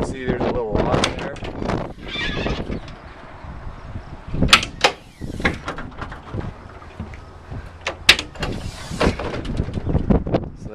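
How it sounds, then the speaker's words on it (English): A self-opening, self-locking compartment door on a hazmat response truck, a sharp latch clunk followed by the door swinging open, heard close amid metallic rattles while someone talks throughout. "They're all self-opening and locking. So all you do is flip the handle and it opens."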